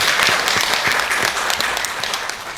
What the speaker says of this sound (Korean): 추모사를 해주신 김양천 복지관광국장님께 큰 박수 부탁드립니다